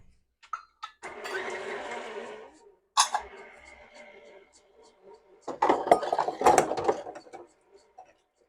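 Pumpkin roll batter with vanilla extract is mixed in two whirring, mechanical bursts, with clinks and knocks between them and voices talking around the noise.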